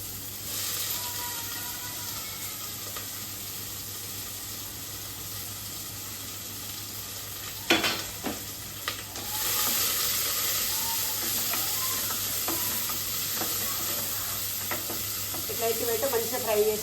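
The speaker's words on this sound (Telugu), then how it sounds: "ఉల్లిగడ్డ మెంతి కూర అయితే ఇట్లా ఫ్రై అయింది." Onions and fenugreek leaves fry in a pan with a steady, soft sizzle, and a few clinks and scrapes of stirring come through near the middle. A person talks quietly now and then.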